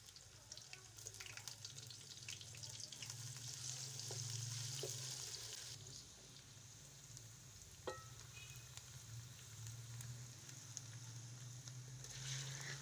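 Quiet frying of cumin seeds in hot ghee in a pan while white beans are prepared, with a low steady sizzle, faint stirring scrapes and occasional clicks.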